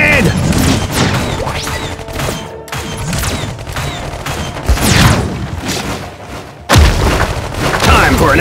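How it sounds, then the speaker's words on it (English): Grenade blasts and booming explosions in the sci-fi strategy game Iron Marines, with several loud, heavy thuds over dense battle noise and voices talking. "Grenade!"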